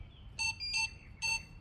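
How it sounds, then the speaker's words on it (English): A robotic pool cleaner gives three short electronic beeps, two close together then a third after a pause, crisp and fairly quiet over a faint low hum. "It beeped."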